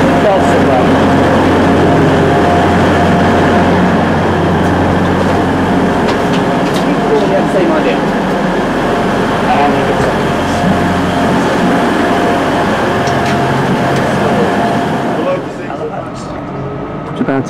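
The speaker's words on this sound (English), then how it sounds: "Just at Halifax Station now, as you can see, we're quite central here, but this is the Northern service." Northern rail train idling at Halifax Station, a steady loud rumble of engine and carriage noise that runs continuously for most of the stretch before dropping away near the end.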